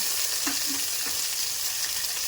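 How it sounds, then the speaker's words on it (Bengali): Potatoes fry lightly in a pan, a close, steady bright sizzle with a couple of soft stirring knocks and no speech. "আলু দিচ্ছি, এগুলো হালকা ভেজে নেব।"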